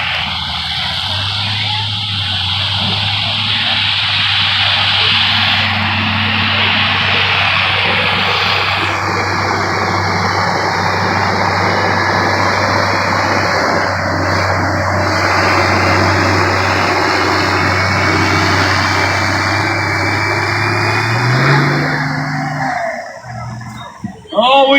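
A 2002 Chevrolet Duramax diesel pickup makes a truck pull run in Troy, Missouri, its engine droning loud and steady at high revs for over twenty seconds before the pitch rises and it cuts off, with an announcer talking over it.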